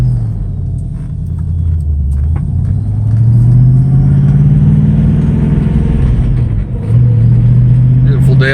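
A 1974 Ford Maverick Pro-Touring coupe with aftermarket headers pulls away on a chilly day in Las Vegas, its engine a loud, close, continuous rumble that swells as it accelerates, dips briefly near the end, then picks back up.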